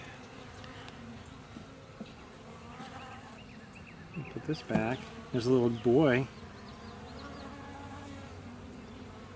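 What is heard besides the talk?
honeybees buzzing in an opened hive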